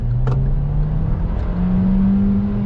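Engine of a 2021 Kia Seltos pulling steadily under acceleration while driving, a sustained low drone with a rising pitch, loud and close throughout, with a brief click near the start.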